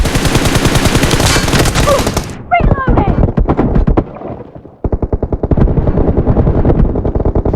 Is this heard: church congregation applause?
no